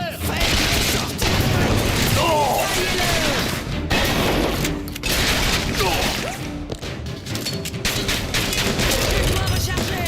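Gunfight in Bioshock Infinite's Shantytown, continuous heavy gunfire with crashes and impacts for the whole stretch, voices shouting in French over the combat.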